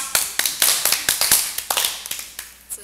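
Scattered audience hand-clapping at a harmonica class's jazz concert, about a dozen sharp, separate claps from a small group, fairly close and uneven, tapering off toward the end.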